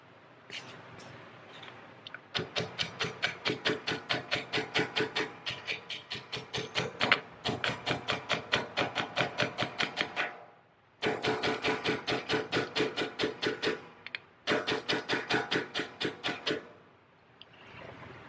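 Metal key stock is tapped into place with rapid, evenly spaced hammer blows in several long bursts separated by short pauses, loud and close with no talking.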